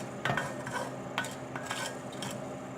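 Coriander seeds crackle and splatter in a hot pan, giving a few sharp pops and light scraping sounds over a soft background hiss with no voices.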